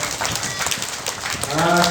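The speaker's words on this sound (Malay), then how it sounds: "tepukan dari Zikril" Students clap together in a school hall, a brief crackling burst of applause lasting under two seconds, with a voice coming in near the end.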